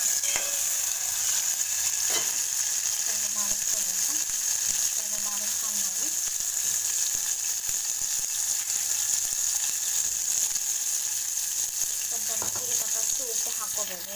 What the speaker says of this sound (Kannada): ಒಂದು ಟೊಮೊಟೊ ಹಾಕ್ಕೊಂಡು ಸ್ವಲ್ಪ ಬಾಡಿಸ್ಕೋಬೇಕು